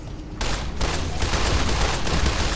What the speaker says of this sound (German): Selbst wenn ich den Viechern in den Kopf schieße mit der guten Brandmunition